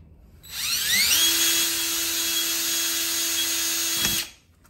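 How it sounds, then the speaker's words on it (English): Power drill boring holes in a penny stove can, spinning up with a rising whine that settles into a steady high-pitched drone for about three seconds before stopping abruptly, close and alone. "And then I'm gonna put holes around the top side here."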